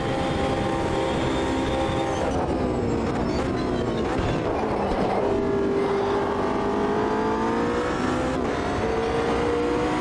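A GT3 race car engine roars from the cockpit view in the Automobilista 2 sim racing game, a loud, steady, high-revving drone that holds near the limiter for the whole stretch, with slight pitch shifts.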